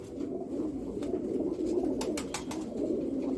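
Female Sialkoti pigeon cooing softly in repeated low, throaty coos, close and fairly quiet, with a few brief clicks and rustles and no talk.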